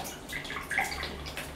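Dirty water trickling and splashing out of a wall-mounted faucet fitting after the tap is removed, tank water carrying sediment, a soft steady running stream heard close up with no talk.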